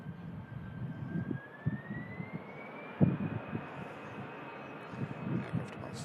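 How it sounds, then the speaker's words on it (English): An Air France jet comes in to land with a faint, steady engine whine that slowly rises in pitch, heard at a distance under low murmuring voices and background bumps. "Aircraft about to touch. Air France."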